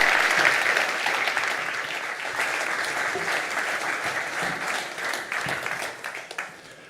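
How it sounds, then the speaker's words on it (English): An audience at the Nobel Peace Conference breaks into warm, sustained applause, a dense wash of many hands clapping that gradually thins out and fades toward the end. "Give Andreas Motzfeldt Kravik a warm applause and very much welcome."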